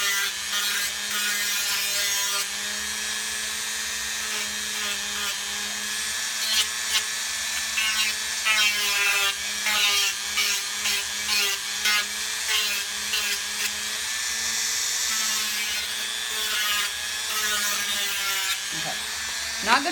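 A power tool grinds and cuts into a plastic Scarlet Witch face mask, a continuous high buzzing whine with uneven scraping bursts, fairly close, with no talking over it.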